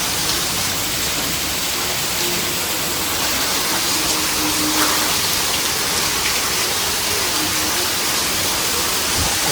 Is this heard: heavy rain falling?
yes